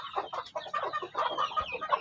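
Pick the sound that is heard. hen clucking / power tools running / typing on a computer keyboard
hen clucking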